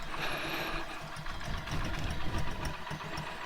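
A 2008 Hero Honda Splendor Plus with a Euro 1 silencer and close to 100,000 km idles close by, a steady low thumping putter with no talk over it.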